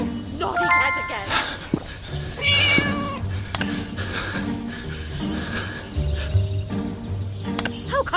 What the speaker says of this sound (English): Naughty cat again.